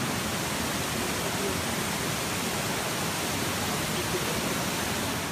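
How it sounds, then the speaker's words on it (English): The big waterfall at Plitvice Lakes, Croatia, a steady, dense roar of falling water filling the whole clip at constant loudness, with no other sounds standing out. "We're coming up to the big waterfall now"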